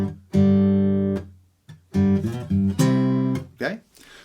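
Acoustic guitar playing a section of a riff, strong strummed chords with ringing sustain and short breaks between phrases, close and loud with no speech.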